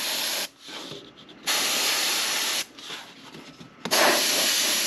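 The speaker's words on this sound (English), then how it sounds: "So now that we're going to be spraying actual paint" Bursts of pressurized spray paint hiss loudly in several long passes over tungsten fishing jigs, separated by short quieter pauses, close up.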